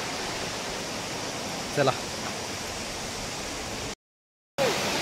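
A waterfall at Marleshwar temple in hilly Konkan country roars as a steady, broad rushing wash, with a brief voice over it and a short gap of silence near the end.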